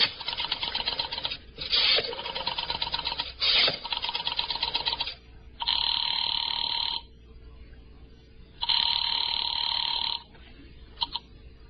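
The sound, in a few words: telephone being dialed and ringing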